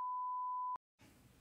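A steady single-tone censor bleep over podcast speech lasts under a second, loud and pure, then cuts to silence before quiet room sound returns.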